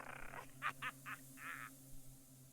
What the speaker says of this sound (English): That's an interesting crow sound. The raven's cawing reminds you of dry laughter.